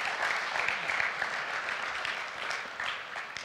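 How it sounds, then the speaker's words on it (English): Audience applause during a church sermon, a steady wash of clapping from a crowd that runs the whole stretch at an even, moderately loud level. "Give the three extroverts a crowd a hand."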